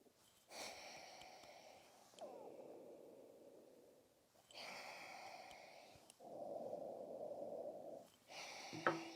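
Brewed coffee is sniffed closely during a cupping session, several long, deep nasal inhales and breathy snorts close to the microphone, separated by short pauses, with no speech.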